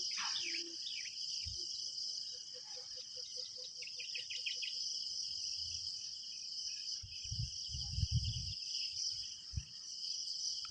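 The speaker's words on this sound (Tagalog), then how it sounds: "Sarap sa tenga nung huni ng mga ibon. Sa umaga." Birds chirping in the morning beside a shallow river, quick faint high calls over a constant shrill drone of insects, with a few soft low thumps nearby.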